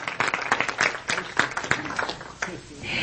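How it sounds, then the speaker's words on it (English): A church congregation applauding young adult performers: a steady patter of many hands clapping, loud and close, with a voice speaking over it. "Let us give one more big round of applause for those young people."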